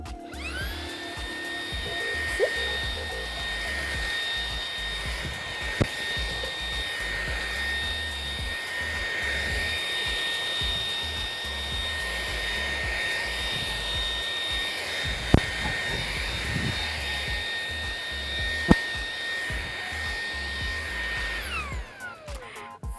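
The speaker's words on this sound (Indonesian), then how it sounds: "Tapi ini akan kita coba pakai fitur turbo dari Xiaomi Dreamy V11 ini." A Xiaomi Mijia Dreame V11 cordless vacuum cleaner runs on turbo mode with a steady, loud high-pitched whine and motor roar, holding constant for about twenty seconds with a few brief clicks before spinning down at the end.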